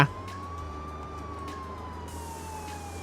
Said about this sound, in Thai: ผมเปิดไซเรนอยู่นะ